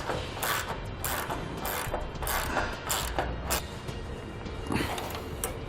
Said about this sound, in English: we're going to have to grab a 1/2-inch socket and a 1/2-inch wrench so we can tighten it down all the way